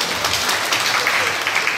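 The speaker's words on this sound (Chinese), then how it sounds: "掌声鼓励一下" A short burst of audience clapping in a lecture hall during a public-speaking teacher training workshop at Shih Hsin University, steady and full throughout, with no voices over it.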